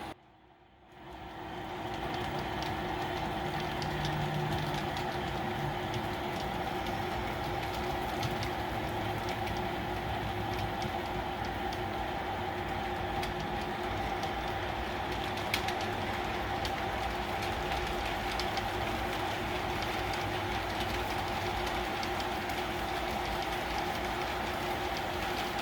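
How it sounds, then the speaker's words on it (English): A model train rumbles along steadily through a helix with a faint rhythmic clatter and a constant hum, running alone at moderate volume after a quiet start. "And here comes our train."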